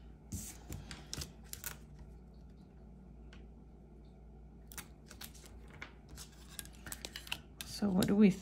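Scissors snip through a strip of washi tape at a planner desk, a few light quiet cuts with faint paper rustling, ending in a louder crinkling burst of tape handling.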